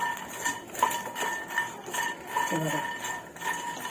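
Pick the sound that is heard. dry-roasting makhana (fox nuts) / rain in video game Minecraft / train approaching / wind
dry-roasting makhana (fox nuts)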